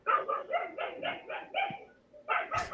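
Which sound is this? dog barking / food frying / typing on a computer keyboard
dog barking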